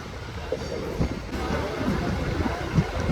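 A MEMU passenger train on the Palakkad to Erode line through the Walayar ghats, making a steady rolling rumble of wheels and carriages from inside the train, with faint murmurs of voices.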